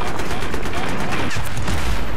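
Gunfire from the video game Battlefield 3 on the Tehran Highway map, with rapid bursts of shots and booms crackling loudly throughout, mixed with game noise.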